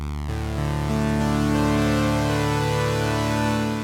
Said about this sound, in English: What you heard there is two oscillators at once.